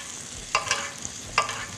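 A veal fillet fries in a pan with a steady low sizzle, broken by two brief scraping stirs.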